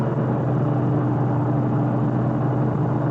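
A Toyota 86 cruises down the road, its engine and road noise forming a steady, even low drone heard from inside the cabin with no talking.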